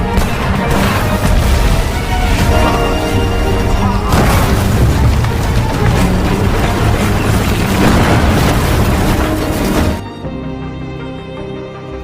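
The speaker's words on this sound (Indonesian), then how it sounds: "berhasil menembak meriam ke arah tank tersebut" A cannon fired at a tank in a Korean War scene: a heavy, sustained booming roar, loud and close, rumbling for several seconds before abruptly dropping to a quieter rumble.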